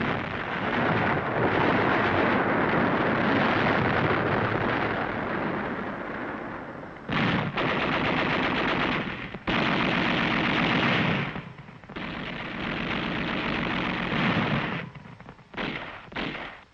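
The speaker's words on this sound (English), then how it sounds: "Troops following the highway were subjected to unrelenting enemy artillery fire." Relentless wartime artillery and machine-gun fire on Okinawa in 1945, a dense continuous roar of blasts and rattling bursts that drops into brief gaps and then resumes, loud and sustained throughout.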